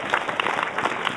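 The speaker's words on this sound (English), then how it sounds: "give them a round of applause" A brief, dense round of clapping from a crowd at a comic convention panel, many hands together in a steady, moderately loud wash.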